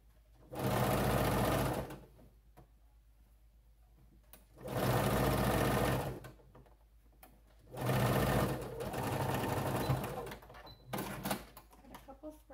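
Sewing machine stitching the seam of pajama bottoms in three long bursts, a fast loud whirring hum starting and stopping between quiet pauses, followed by a short final burst.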